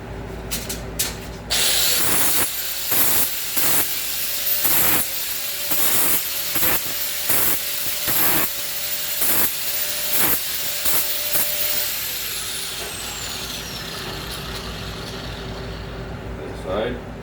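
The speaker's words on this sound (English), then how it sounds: "We'll just deburr that quickly." Steel angle iron, two freshly cut 4-inch pieces, being deburred with a grinder in a workshop: a loud hissing, rasping grind in repeated short bursts over a steady motor whine, close and continuous for most of the stretch.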